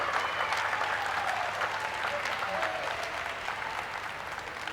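Steady applause from a crowd at a swimming pool during the 8th ASEAN Para Games in 2015, a continuous wash of clapping at even loudness with no break throughout.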